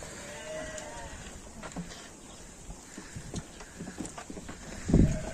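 Young lambs run around and play on a farm, giving a soft patter of hooves with occasional faint bleats and a brief louder bump near the end, low in level with a little background noise.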